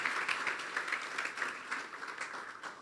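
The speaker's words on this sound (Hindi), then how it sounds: "इस बच्चे के लिए जोरदार तालियां बजाएंगे हम" Applause from a church congregation for a child who has just sung, a steady wash of many hands clapping together at moderate, slightly distant level without a break.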